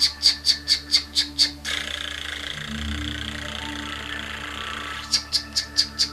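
A voice imitates a Rain Bird lawn sprinkler on a school soccer field, with a rapid run of rhythmic clicking bursts, then a long hissing sweep, then the quick clicks again, close and alone.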